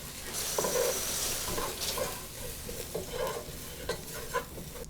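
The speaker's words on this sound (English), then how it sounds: "I'm starting on my roux, so I'm adding 3 tablespoons of flour" Flour being stirred into butter in a pot for a roux, with a steady close scraping and soft sizzle throughout and no voices.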